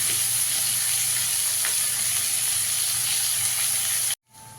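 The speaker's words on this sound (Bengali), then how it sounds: "পেঁয়াজটাকে একটু লাল করে ভেজে নেব" Chopped onions, four fairly large ones, sizzle steadily in hot oil as they fry toward a reddish brown for mutton kosha, a loud continuous crackle that cuts off abruptly near the end.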